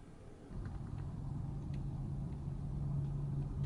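Steady low engine rumble and road hum fill a car cabin from within, continuous and even, with no talking.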